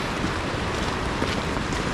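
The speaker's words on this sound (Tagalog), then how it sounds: "Parang malakas ang raganas ng ilog." A strong river rushes in heavy rain and flooding, a dense, constant broadband roar of moving water with no breaks and no talk over it.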